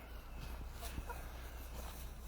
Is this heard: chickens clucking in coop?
yes